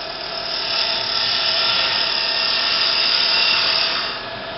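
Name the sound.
scraper cutting a wooden lidded box on the lathe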